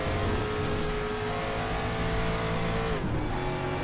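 A 1992 Mustang DTM race car in the RaceRoom racing game at the Nurburgring GP circuit, its engine droning loud and steady at high revs, then briefly dropping in pitch as it shifts or brakes and climbing again, with no talk.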